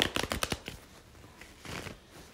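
Ancestor oracle card deck being shuffled by hand, a quick burst of crisp riffling flutters at the start, then a quieter second shuffle after a brief pause, close and fairly soft with no talking.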